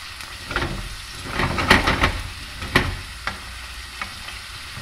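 Rigatoni with sausage, zucchini and provola are tossed and sautéed in a hot pan, with a steady sizzle and several sharp stirring scrapes and clacks close by.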